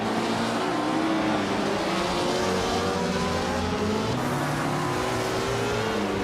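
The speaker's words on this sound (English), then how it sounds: "Gravy Graves is leading in a Ferrari 158 from 1964" A 1964 Ferrari 158 race car engine in a racing video game drones steadily and loudly throughout, with rising pitch sweeps as it revs through the gears.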